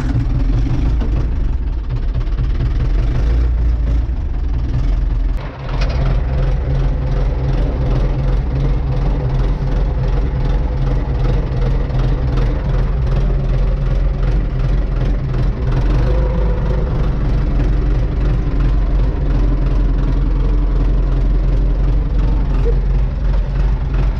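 An old Ursus tractor engine runs at a steady, loud idle, a continuous low mechanical drone and rattle that carries on unchanged for over twenty seconds, close by outdoors on a farm at ploughing time.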